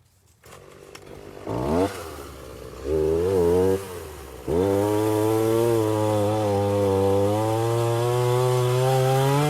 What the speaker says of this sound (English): we are cutting a pumpkin the right way with a chainsaw